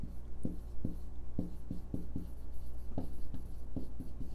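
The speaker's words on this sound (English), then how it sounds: "let me write this down right here for you guys." A pen scratches on paper while someone jots down a math problem, a run of short, close strokes and taps in an irregular rhythm over a low steady hum.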